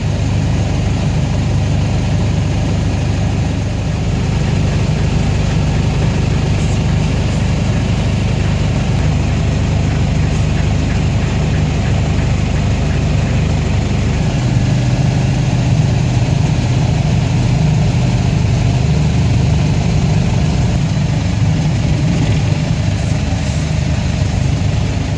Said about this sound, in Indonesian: Kendaraan udah mulai masuk kapal sekitar jam setengah 3 siang.